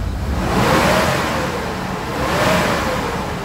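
A Mitsubishi Adventure engine revs up twice in steady swells, its broad mechanical roar rising and easing with a faint whine, close by and without talk.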